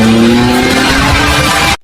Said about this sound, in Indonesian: Dia pun berangkat dengan motor gedenya.